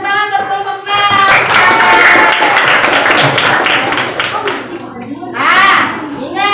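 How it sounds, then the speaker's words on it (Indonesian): A classroom group of teachers and children claps for a group stepping up to present, busy applause mixed with children's voices and chatter, swelling again briefly near the end. "Tepuk tangan untuk kelompok 6"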